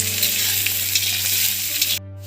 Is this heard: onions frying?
yes